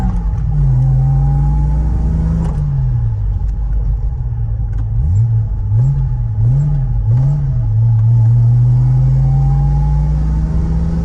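A 1967 Jaguar E-Type driving on the road: a loud, close engine drone that swells and dips through several quick revs and shifts before settling into a rising pull, with no voices.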